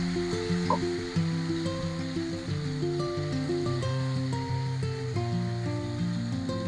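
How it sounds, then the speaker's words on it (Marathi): Prepared gravy for dhaba-style mushroom masala sizzles and crackles in hot oil with mustard seeds over a medium flame, a steady frying hiss under a layer of background music. "आता आपण ह्यामध्ये टाकणार आहोत आपली तयार करून घेतलेली ग्रेव्ही"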